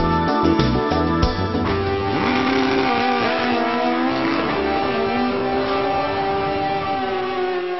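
Race cars on the Batangas racing circuit, engines roaring loud and continuous, pitch rising and falling as they accelerate and pass, with a brief tire squeal near the start.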